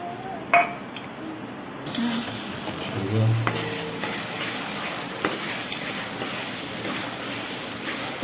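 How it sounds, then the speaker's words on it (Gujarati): Onions go into hot oil in a pan for a soya chunk curry. A sudden broad sizzle starts and settles into a steady frying hiss, with a few metal clinks from the pan and utensils. "હાલો આપણે તેલ નાખી દીધું છે. હવે નાખશું આપણે ડુંગળી."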